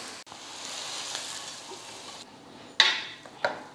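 Sautéed onions are stirred into corn flour dosa batter with a soft, wet sizzling swish, followed by two sharp clinks of a utensil against the vessel, close and alone.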